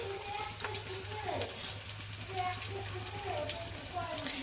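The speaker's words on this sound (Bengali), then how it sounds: "এটা জাস্ট ফোড়ন দিলাম আর কি, পেঁয়াজ একটু" Onion sizzling in hot oil for tempering a meat dish, a steady close crackle with brief stirring touches and a low hum underneath, no voice over it.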